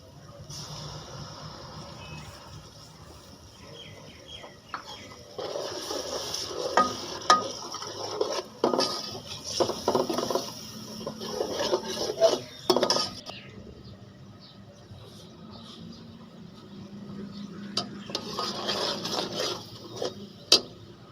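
Yogurt goes into frying ground spices (red chilli, garam masala, coriander, cumin, turmeric) in a pan for eggplant biryani: a soft sizzle under bursts of spoon-on-pan clatter and scraping stirs, with quieter pauses between.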